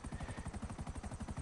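Buzzard helicopter in a video game, its rotor chopping in a fast, steady pulse that stays loud and close throughout, with no voices.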